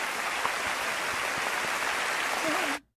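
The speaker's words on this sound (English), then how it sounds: "That's the clapping of the cult followers." Dense, steady clapping from a crowd of cult followers in an anime episode, loud and continuous for nearly three seconds before cutting off abruptly, with a brief voice rising at the end.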